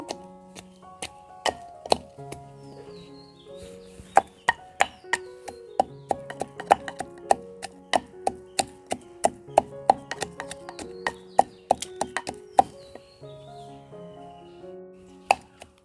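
Dried lentil dumplings are pounded by hand, a steady series of sharp, close knocks and taps that repeat irregularly over a soft background of sustained musical tones.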